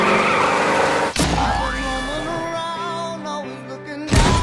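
In the comedy horror film Scary Movie, a car skids and hits a kid: a sharp crash bursts out, then a long, wavering tire squeal trails off before another loud impact hits at the end.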